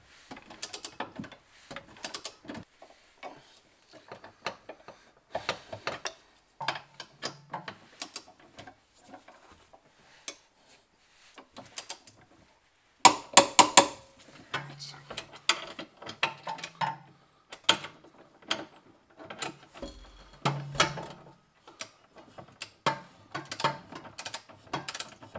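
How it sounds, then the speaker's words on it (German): A torque wrench ratchets in rapid clicking runs while tightening a tow hitch bracket on a Nissan X-Trail, close and mechanical, with pauses between strokes and occasional dull metallic knocks. "ziehen wir den natürlich dann wieder fest. Auch wieder mit dem Drehmomentschlüssel."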